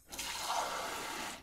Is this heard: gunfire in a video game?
no